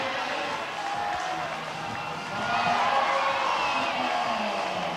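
A crowd at the Studio Bloc Masters 2024 bouldering finals reacts to a climber's attempt. A low, distant murmur swells into louder cheering and shouting about halfway through.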